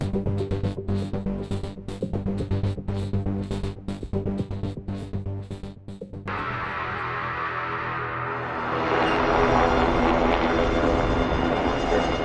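A steady, loud helicopter rotor-and-engine drone throbs throughout at East Branch Dam near Wilcox, Pennsylvania, with a rhythmic beating early on that gives way to a broader roar as it passes close.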